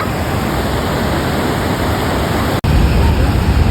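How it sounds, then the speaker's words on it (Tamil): The roar of Niagara Falls, where the Niagara River plunges over the edge, is a loud, constant broadband rush filling the air, close and unbroken apart from one brief dropout. "அந்த நயக்ரா ரிவர்ல இருந்து ஃபோர்ஸாக வர தண்ணி இந்த ஃபால்ஸா வந்து"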